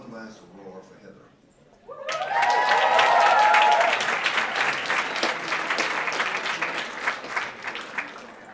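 Audience applause and cheering for a person named Heather at a live event, a quiet murmur giving way to a sudden loud burst of clapping with whoops and shouts that carries on at full strength.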